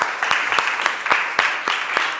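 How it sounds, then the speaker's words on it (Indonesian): Steady applause from a group in a classroom, a dense patter of clapping with a few louder individual claps standing out, no talking over it. "Tepuk tangan untuk kita semua dulu"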